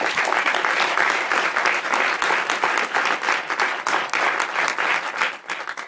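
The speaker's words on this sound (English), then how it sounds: "One more round of applause." Commencement ceremony audience giving a sustained round of applause, dense crowd clapping steady and loud throughout.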